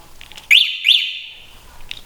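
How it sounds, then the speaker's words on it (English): An Aniioki A8 Pro Max electric bike's anti-theft alarm gives two sharp, loud chirping whistle tones in quick succession, followed by a sustained shrill electronic tone that fades out, heard up close. "This bike does have an alarm system,"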